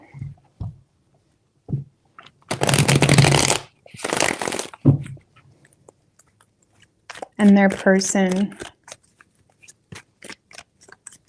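Tarot cards are shuffled in two quick, crisp bursts, a longer riffle followed by a shorter one, while a person talks before and after them.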